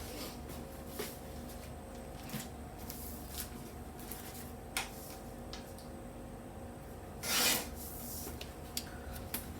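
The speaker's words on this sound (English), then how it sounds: "So let me trim that because I thought I had it trimmed." A paper sticker is trimmed at a craft desk, with soft scattered rubbing and scraping noises, light ticks and a brief louder rustle near the end, all quiet and close over a faint steady room hum.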